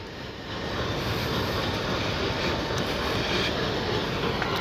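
A WDM3 diesel locomotive from the Ludhiana shed at Firozpur Cantt railway station: a steady, loud broadband engine roar and rumble that holds constant throughout.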